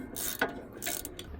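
A hand ratchet clicks in a few quick bursts while the brake caliper slide bolts are snugged down on the rear brakes of a Toyota Camry, close and fairly quiet.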